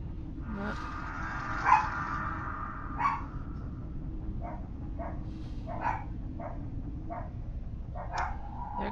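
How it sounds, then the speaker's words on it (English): Pet dogs in the video game No Man's Sky barking in scattered short yips and barks over a low steady hum, fairly faint and spread across the scene. "There goes my dogs."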